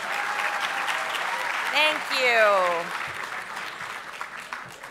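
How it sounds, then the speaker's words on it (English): Audience applause at a PEPFAR and USAID leadership conference plenary, a dense steady wash of clapping that runs under a speaker's voice throughout and swells slightly midway. "Let's give a round of applause"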